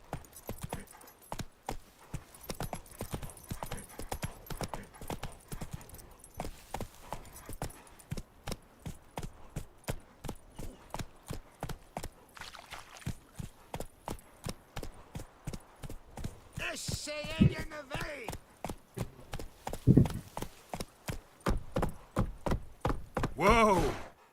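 Roach, a horse in The Witcher 3, clip-clops along in a steady run of hoof beats that hold close and clear throughout, while a voice speaks briefly near the middle and again toward the end.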